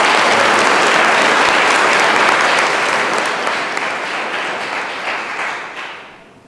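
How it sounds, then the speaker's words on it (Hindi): An audience at a yoga workshop in a college in Aligarh, India, breaks into loud, dense clapping that holds steady and then gradually fades out over several seconds. "इसके लिए हम लोग रविंद्र जी के लिए एक बार ज़ोरदार तालियों के साथ"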